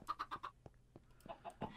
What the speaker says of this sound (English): So there's chicken in there.